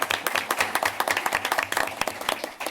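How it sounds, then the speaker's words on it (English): Clapping from a small audience at a school board of education meeting, a few people clapping in a loose, fairly quick rhythm, close and moderately loud. "Oh, she gets a clap."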